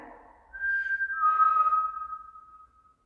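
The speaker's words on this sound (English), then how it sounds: "who would have been whistling?" A single person whistles a short, clear tune of a few sliding notes, nearby in a quiet space on the stairs of an old prison.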